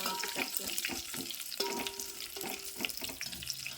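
Garlic and curry leaves frying in hot oil make a faint, continuous sizzle with light crackles and a few stirring scrapes, heard close and on their own without speech.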